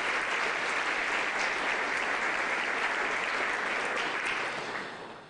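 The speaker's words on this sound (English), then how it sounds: "Let's give them all a round of applause" A school audience at a teacher of the year celebration claps steadily and loudly in dense, sustained applause that fades slightly at the very end.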